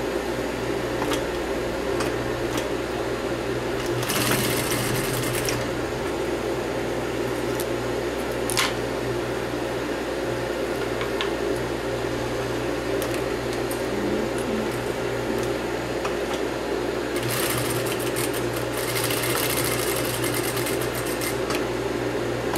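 A sewing machine stitches a seam on a blouse, a steady close mechanical whir running throughout, with a few brief louder bursts of rapid stitching and occasional light clicks, no talking.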